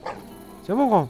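A dog in The Legend of Zelda: Breath of the Wild gives a short, close, rising-and-falling yip or whine right after someone speaks a few words in French.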